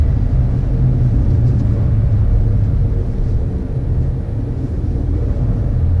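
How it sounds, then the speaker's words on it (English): An Alfa Romeo Stelvio driving on snow or ice, heard from inside as a steady, loud low rumble of road and engine noise with a faint hum, continuous throughout and without talking. "I'm driving on snow or ice, I have no idea, but it feels like I'm driving on a wet tarmac in the UK"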